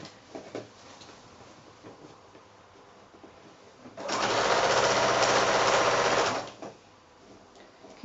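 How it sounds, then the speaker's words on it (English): Sewing machine stitching along quilt binding close to the edge, a steady loud whirring run of about two and a half seconds between quieter handling sounds and faint movement. "I'm just stitching quite close in to the edge of that binding"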